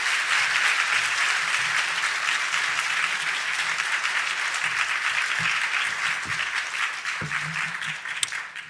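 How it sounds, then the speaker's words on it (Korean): A church congregation at a Korean revival service applauds, a dense steady clapping that gradually thins toward the end, with a few faint low thumps and a brief sharp click near the close. "박수로 격려해 주시기 바랍니다"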